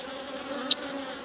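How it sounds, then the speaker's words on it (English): Honey bees from a backyard hive hum in a close, steady buzz, with one brief sharper note as a single bee passes near, all within about a second and without speech. "It was packed with bees."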